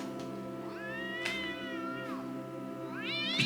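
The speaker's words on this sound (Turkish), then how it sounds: "Kedi çığlıklar." Several drawn-out, rising and falling cat yowls in Minecraft, shrill and piercing, repeated over a steady low hum.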